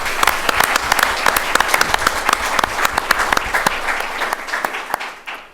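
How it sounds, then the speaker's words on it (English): An audience at a board meeting applauds steadily for about five seconds, a dense, even clapping that holds its level before thinning and fading out at the end. "I'd like Yeah, to well, applaud them for all their hard work."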